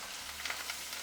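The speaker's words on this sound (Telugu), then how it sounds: "తాలింపు అనేది ఫ్రై అవ్వాలి" Tempering of garlic and curry leaves frying in ghee, a brief quiet continuous sizzle and hiss lasting about a second, with no talk.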